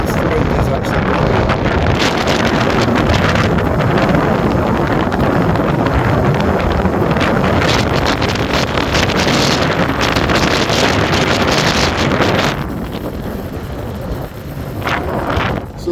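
Strong wind buffets the microphone on a Scottish Munro above Loch Lochy near Fort William on a wet, overcast day, a loud continuous roar for about twelve seconds that then eases to a lower, gustier rush.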